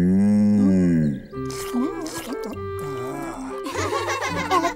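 A cartoon cow in Peppa Pig lows in a long, deep moo, followed by music with sustained tones and shifting melodic sounds.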